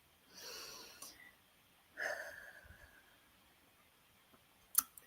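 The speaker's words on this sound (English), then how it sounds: "I want to invite you to take a breath together, like really inhale and exhale together" A conference audience inhales and exhales together in a guided breathing pause, two soft breathy swells of breath rising and fading a second apart, followed by a brief sharp click near the end; no one talks.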